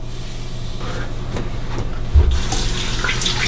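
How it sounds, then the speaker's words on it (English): Hot water runs steadily from a bathroom tap and splashes onto a face before a safety razor shave, a continuous close hiss with a brief louder splash near the middle. "And I'll splash hot water on."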